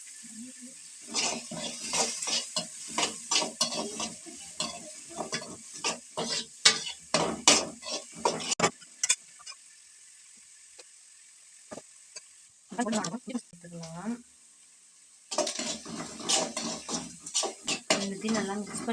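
Onions sauté in a pan while a utensil scrapes and clatters against the metal in quick, irregular strokes, a soft sizzle underneath, with brief quiet pauses between bursts of stirring.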